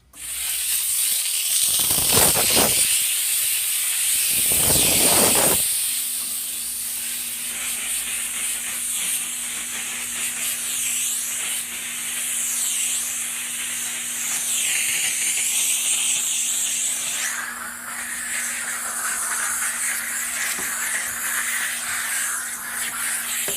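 A Chief Steamer 125 PSI steam cleaner blasts a car roof with loud, continuous hissing steam, interrupted by a few short bursts early on and then a long unbroken spray with a faint steady hum beneath.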